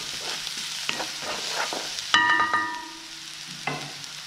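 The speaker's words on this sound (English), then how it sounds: "Mix a little bit ginger and some garlic. Do a nice stir mixing." Ginger and garlic stir-fried in a pan, a steady sizzle with the scrape and clink of a utensil, one bright metallic ring midway, close and loud with no speech.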